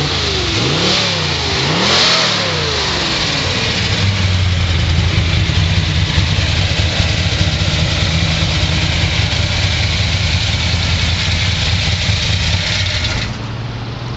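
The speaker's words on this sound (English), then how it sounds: "Dwayne wanted to show everyone Maclay Motors 1972 Corvette StingRay." A 1972 Corvette StingRay with a 454 V8 blips its throttle in two quick rising revs, then settles into a loud, rumbling, lumpy idle held close up for a long stretch, with no voices over it.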